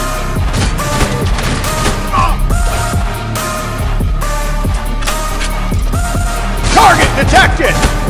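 Gunfire in the mobile shooter Modern Strike Online: loud, dense volleys of rapid shots and booms roll on almost without pause, layered over game sound effects.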